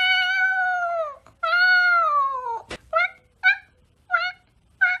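A woman imitates a cat with her voice, giving two long drawn-out meows followed by a string of short, sharp mews in a quick rhythm, close and clear against a quiet background.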